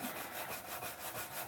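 Steady back-and-forth rasp of silicon carbide paper worked by hand across a steel dagger blade for a 400 grit satin finish, close and continuous with an even rhythm and no speech.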